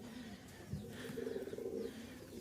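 Rajshahi Giribaz pigeons giving a soft, low, rolling coo, a single murmuring call heard close but quiet against faint background noise.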